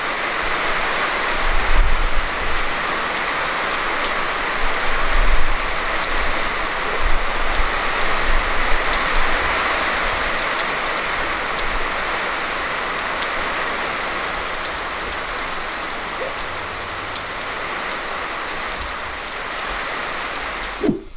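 Heavy rain pours down during a windy storm at night, a loud, dense and steady roar of drops on surfaces lasting the whole stretch, with low gusty rumbles and no voices.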